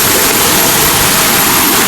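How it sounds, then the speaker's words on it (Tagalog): Loud, powerful stream rushing over its bed, a dense, constant roar of water that fills the whole clip without letting up, close to the listener, with no voices. "Sobrang lakas ng sapa na to."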